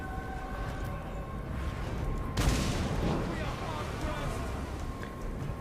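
Troops and artillery fire together in a Total War Warhammer 2 battle: a steady bed of distant battle noise gives way midway to one loud booming volley that slowly trails off, with a faint voice in the background.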